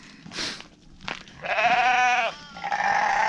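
Sheep bleat loudly at feeding time, one long wavering call followed by another, close by, with rustling and shuffling between the calls.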